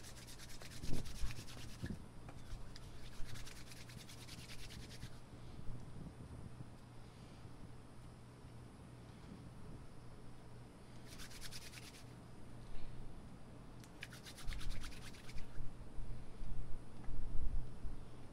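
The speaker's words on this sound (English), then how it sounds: "As you mold it together like clay, the 2 active chemicals form" Soft rubbing and squishing of two-part epoxy putty kneaded by hand like clay for a Cadillac DeVille window regulator repair, coming in quiet irregular bursts close to the microphone with no talking.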